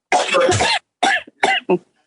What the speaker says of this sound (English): All I hear is a cough.